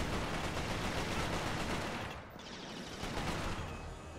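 Gunfire and an explosion from the PS3 first-person shooter Resistance: Fall of Man, heard as a dense, continuous rattle of shots with a brief dip midway before the fire resumes.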